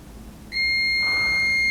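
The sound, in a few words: multimeter continuity test beep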